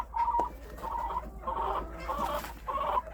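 Mixed backyard chickens, Australorps, Cochins and bantams, cluck in a series of short, close bursts in winter, with no talk over them.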